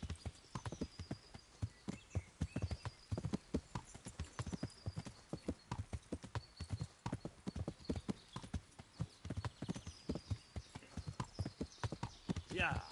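Steady, rhythmic clip-clop of a horse's hooves trotting in the game Kingdom Come: Deliverance, continuous and close, with someone talking over it now and then.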